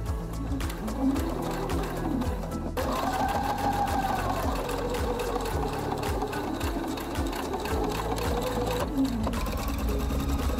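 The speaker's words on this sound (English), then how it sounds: "I sew a three-step zigzag seam around the ears to keep the fabric from ripping" A sewing machine runs steadily, stitching a three-step zigzag seam around fabric ears on a hooded baby towel, with a continuous close rhythmic whirring and needle chatter throughout and no talking.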